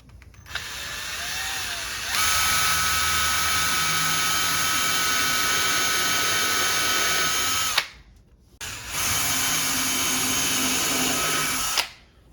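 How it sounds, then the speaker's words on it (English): A small power drill with a 3/32 bit drills into kitchen cabinet wood, whirring steadily at high pitch in two long bursts, with a short pause between them and quiet at the start. "So we got our 3/32 drill bit."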